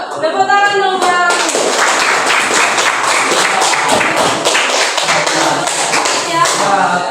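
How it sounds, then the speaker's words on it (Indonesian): Students in a classroom clap their hands in a lively burst of rapid, overlapping claps, loud and close, with voices talking over the clapping at the start and end. "Tepuk tangan dong yang"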